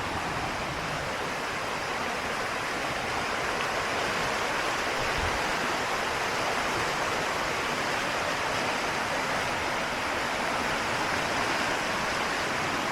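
Water flows from a serene pond and dips down into a small waterfall, a continuous broadband rush that stays steady and fairly soft throughout, with no voices.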